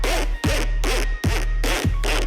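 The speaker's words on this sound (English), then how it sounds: "the jarring sound effects at the end of this track, which sound like a bunch of very large pairs of pants getting zipped up" Five harsh zipper-like sound effects from the end of a track, each a loud buzzing rip about a third of a second long, repeating in a steady rhythm with short gaps between.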